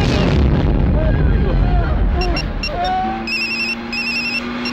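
A telephone rings during a call, with repeated steady electronic ring tones coming in clearly after a noisy, rumbling start, loud and close.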